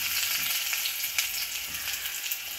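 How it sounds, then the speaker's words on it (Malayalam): Mustard seeds splutter and crackle in hot oil with a dense, bright sizzle and scattered small pops throughout. No voices are heard. "കടുക് പൊട്ടിച്ച് കൊടുക്കാം."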